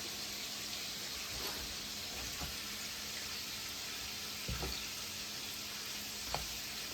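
Food sizzling steadily in olive oil in a pan while being stirred, a continuous frying hiss with a few soft utensil knocks scattered throughout, no talking.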